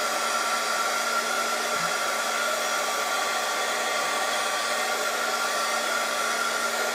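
A hair dryer blows steadily to dry ink on paper during a flower-making craft, a continuous close whooshing hum with a faint whine, even and unbroken for several seconds with no talking.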